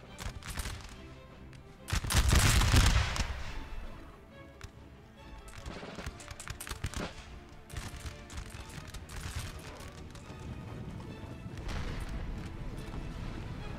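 Musket volley gunfire in Napoleon Total War: a loud massed volley crackles early, followed by scattered ragged musket shots and distant battle rumble continuing throughout.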